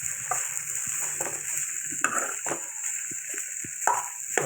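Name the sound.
stirring beans carrot curry frying in a pan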